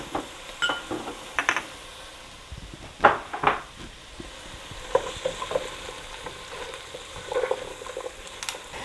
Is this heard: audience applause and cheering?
no